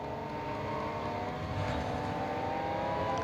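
A high-revving V12 engine of a Ferrari 250 GTO race car in Real Racing 3 drones steadily at moderate distance, its pitch holding with a slight rise toward the end, fairly faint.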